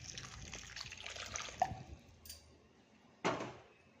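Melted jaggery syrup pours into a sweet flour mixture for Shivaratri thambittu, a short wet trickle and splash up close, with a second brief pour near the end and no talking.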